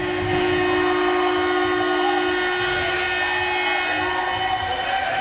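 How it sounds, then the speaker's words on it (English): A steam whistle blows in one long, steady, sustained tone over a noisy hockey arena crowd at a game's end, the background rumbling continuously throughout. "Sounds like KV brought their own steam whistle."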